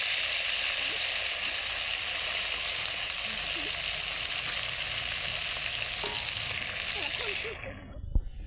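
Stuffed brinjal fries over a wood-fired stove in a dense, steady sizzle that fills the scene, ending with a quick clatter of utensils.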